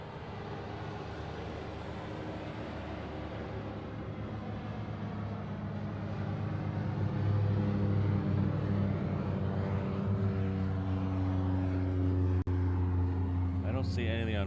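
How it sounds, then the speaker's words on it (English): A Hawaiian Airlines Boeing 717 airliner arriving from Maui at Honolulu's airport gives a steady, close jet roar with humming engine tones that swell louder midway and hold, with no talk over it. "This one's coming in from Maui, so it's a 717."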